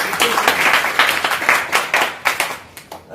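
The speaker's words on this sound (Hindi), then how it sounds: "वेरी गुड, जोरदार ताली" Audience at a marketing seminar clapping in a quick, uneven rhythm, distinct hand claps bursting in a loud, close cluster for a few seconds before tapering off.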